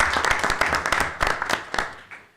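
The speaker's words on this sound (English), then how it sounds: "So let's give you a round of applause." Applause from the crowd at a public hearing during a special meeting: dense, close clapping that rises, peaks, then thins and fades over a couple of seconds.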